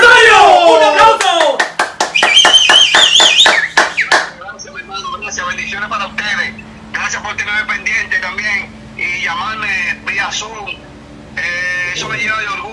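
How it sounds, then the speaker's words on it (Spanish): Scattered hand clapping from a podcast audience saluting a Toño Rosario impersonator, a quick burst of claps over someone speaking, followed by continued talk with background sound. "¡Un aplauso!"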